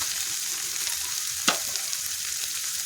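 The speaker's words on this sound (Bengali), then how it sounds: "সিদ্ধ করা ম্যাগিটা দিয়ে দিচ্ছি" Boiled Maggi noodles frying in a hot pan give a steady, close sizzling hiss, with one brief louder burst partway through as they hit the oil. No one speaks.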